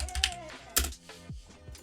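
Quick bursts of keystrokes on a computer keyboard as a command is typed, a few sharp clicks and softer taps in an uneven rhythm, close and moderately quiet.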